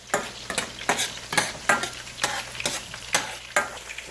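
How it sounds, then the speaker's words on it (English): Chopped ginger and garlic sauteing in hot oil in a pan for chicken Manchurian, a close bright sizzle punctuated by about nine rhythmic spatula strokes scraping the pan. "After the oil heats, put the chopped ginger and garlic in. And saute it around for a while."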